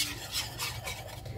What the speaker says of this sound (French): on mélange bien comme ça, normalement on n'a pas de grumeaux avec un fouet si possible